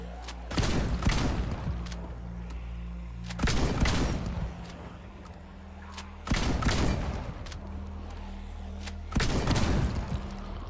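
Gunfire in Project Zomboid: four separate loud bursts of rapid shots, each a dense crackling volley lasting about a second, spaced a few seconds apart over a low steady hum.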